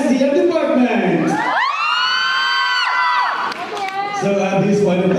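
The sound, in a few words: crowd cheering for candidates at school event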